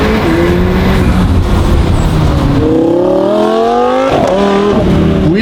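Lamborghini in full active race mode accelerating hard, its engine howling up through the revs with quick pitch drops at the gear shifts, loud and close from inside the car.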